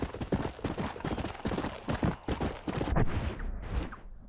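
Horse hooves clip-clop in quick, regular rhythm in the video game Red Dead Redemption, a close, steady gallop that slows and fades toward the end with no speech.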